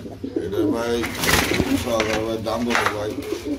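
Pigeons coo steadily and close by in a loft, with a red male and a yellow female among the pair, while people talk over the birds throughout.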